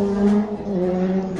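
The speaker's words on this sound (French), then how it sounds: "Là, c'est un malade qui est en train de passer sous sa moto en cabrant" A motorcycle pulls a wheelie while passing on a city street, its engine whining in a sustained, wavering tone that rises and falls over a second and a half, fairly close.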